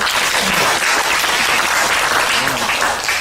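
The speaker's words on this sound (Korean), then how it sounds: "박수로." Audience applause at a farmers' discussion forum on border-region issues, a dense, steady wash of many hands clapping that carries loud and unbroken from start to finish.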